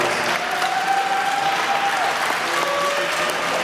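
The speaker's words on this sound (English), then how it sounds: "So I want to give them a huge round of applause." A concert audience gives a huge round of applause at a spring school concert, producing dense, sustained clapping that fills the room, with faint tonal sounds and murmurs underneath.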